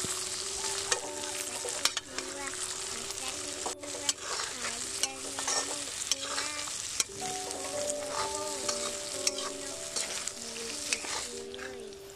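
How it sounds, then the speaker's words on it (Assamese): Paneer masala with cowpeas sizzling in a pan while being stirred steadily, frying hiss continuous with repeated scraping strokes of the spoon, close and moderately loud, with tonal background music running underneath. "তাৰপিছত ধুনীয়াকৈ লৰাই থাকিব"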